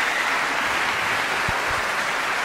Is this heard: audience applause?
yes